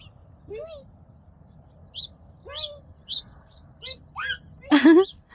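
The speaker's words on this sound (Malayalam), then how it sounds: "പക്ഷികളൊക്കെ ഉണ്ടെന്ന് തോന്നുന്നു കേട്ടോ. സൗണ്ട് കേൾക്കുന്നു." Birds call in the desert at Umm Al Quwain with short, high chirps and rising tweets scattered across a few seconds. The calls are fairly faint over a low background rumble, and a louder burst comes near the end.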